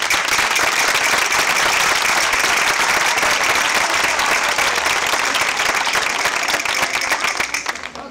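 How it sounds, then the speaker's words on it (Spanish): Loud, continuous applause from a village crowd at a tribute during a traditional pipe-and-tabor players' contest, thick rapid clapping holding steady before easing off at the close. "Bueno, un aplauso."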